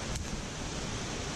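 A river and waterfall in Linville Gorge roar as a steady, dense rush of water, close and constant, with a brief brighter splash early on and no voices.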